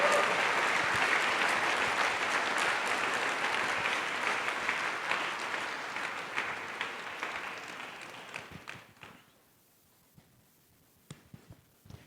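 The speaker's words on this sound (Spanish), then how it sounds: "dele un aplauso fuerte al Señor en esta tarde" A church congregation gives the Lord a loud round of applause at an afternoon service, dense clapping that holds steady and then tapers off, ending with a few scattered claps in near silence.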